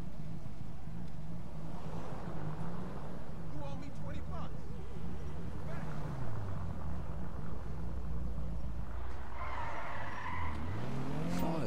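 In a driving video game, a car engine hums and shifts pitch as the vehicle maneuvers, with repeated tire squeals and skids rising and falling over continuous road rumble, while a voice talks over it.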